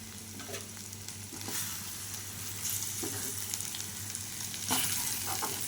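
Eggplant pieces fry and sizzle in a pan while being stirred, a steady hiss with occasional scraping and clinks from the stirring, close and alone without speech.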